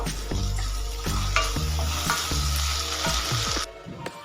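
Rui fish pieces fry with soy sauce and tomato ketchup as a spoon stirs them, a loud close sizzle punctuated by rhythmic scraping strokes against the pan, cutting off near the end.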